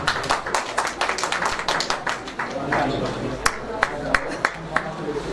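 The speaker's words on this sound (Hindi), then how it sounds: "हृदय से तालियों के साथ अभिवादन।" An audience claps in greeting for an honoured guest at a Hindi book release function, a dense patter of hands continuing throughout with a few sharper, louder claps standing out near the end.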